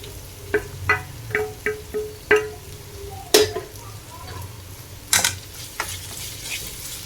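Onion with turmeric, chili powder and salt sizzles in a pan while a utensil scrapes and stirs in repeated strokes, close by, with a few sharper clanks.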